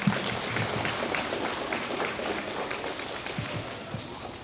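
An audience in a school gathering applauds a student, a dense wash of many hands clapping with scattered sharper claps, fairly loud and continuous.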